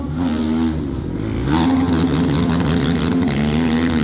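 Hero MotoSports rally motorcycles ride a whoop-de-doo track, their engines loud and close, droning with shifting pitch as the throttle rises and falls, growing louder midway as a bike passes.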